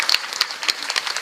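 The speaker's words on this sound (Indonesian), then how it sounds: "Tepuk tangan disit kok." Irregular bursts of audience clapping break out briefly at a Ramadan religious gathering, a short scattered patter rather than sustained applause.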